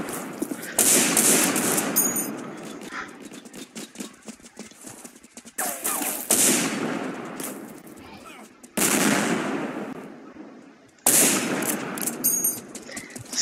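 Sustained bursts of rapid automatic gunfire in the shooter game Line Of Sight, loud and close, coming in several long volleys separated by brief pauses.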